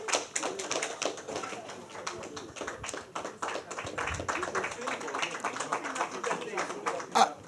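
An audience at an inaugural ceremony gives a round of applause, a sustained ragged patter of many hands clapping with voices mixed in, steady throughout and swelling near the end.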